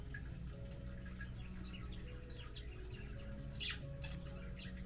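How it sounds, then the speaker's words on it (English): Pet birds chirp and squawk faintly indoors in short scattered bursts over a low steady background hum, with some dripping, tap-like sounds mixed in. "The birds are loving having company that also wants to talk to them."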